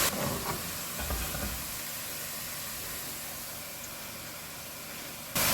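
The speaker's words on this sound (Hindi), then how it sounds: "इसमें से हाफ प्याज मैं अभी पहले फ्राई कर लूँगी" Onions frying in hot oil for a spicy chicken matar pulao give a steady, even sizzle and hiss that holds at a constant level throughout, with no one talking.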